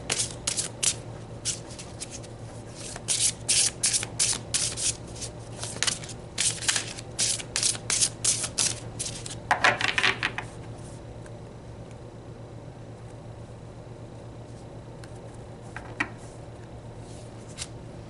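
Oracle cards shuffled and pulled in quick clustered riffles and papery flicks during the first ten seconds, then a single brief rustle later, close and moderately loud, with no speech.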